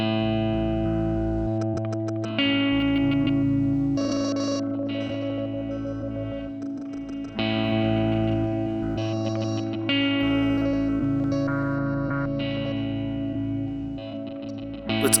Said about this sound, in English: let's add some delay and reverb with Mimeophone.